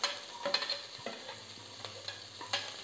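Onions and whole spices frying in oil in a pan, a quiet hiss under light scraping and stirring taps, close by.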